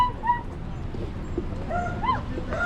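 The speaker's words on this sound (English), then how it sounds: "that dog has a weird bark." A dog gives a few odd, high yips and whimpering barks outdoors in Florence, Oregon, spaced irregularly over a few seconds against a low background rumble.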